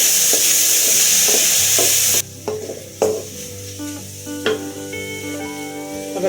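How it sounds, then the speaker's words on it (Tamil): Ginger garlic paste hits a hot pan with a loud, bright hiss that cuts off abruptly, then quieter sizzling continues under a few scraping stirs and clinks of the utensil, close by. "இஞ்சி பூண்டு விழுதும் போட்டு ஒரு நிமிஷம் வேக வைக்கணும்"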